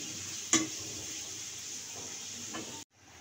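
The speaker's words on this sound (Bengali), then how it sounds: "পেঁয়াজটাকে আমি একটু হালকা লাল করে ভেজে নেব।" Onions frying in oil until lightly reddened, a steady close sizzle with a couple of brief stirring knocks, cutting off abruptly near the end.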